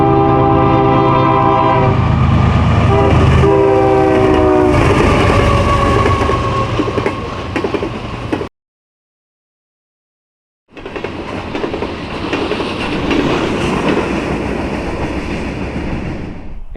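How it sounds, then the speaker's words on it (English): An eastbound CSX coal train led by two GE Evolution Series locomotives rolls past loud and close, horn blasting at first, then a steady roar of wheels and cars, cut by a brief gap before the rumble resumes. "this eastbound CSX coal train with 2 Gevos headed by"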